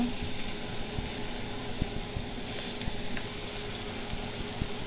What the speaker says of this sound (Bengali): তেলটা গরম হয়ে গেছে। এখন পেঁয়াজগুলো দিয়ে দিব।